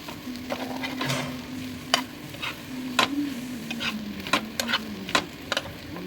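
A spoon mixes sandwich filling with tomato sauce in a bowl, giving soft, irregular scrapes and light clicking taps over a faint steady hum, close and fairly quiet.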